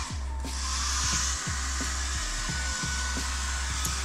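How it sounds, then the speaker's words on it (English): A hair dryer blows on wallpaper with a steady airy whoosh and hum, with occasional soft knocks and thuds beneath it. "he's using the hair dryer"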